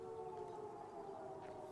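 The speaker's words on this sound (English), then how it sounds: "Siren Blast." Siren blast in the video game Life is Strange: True Colors, a sustained wailing tone held faintly and steadily for under two seconds.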